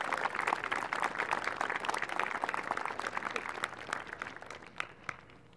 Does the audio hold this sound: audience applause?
yes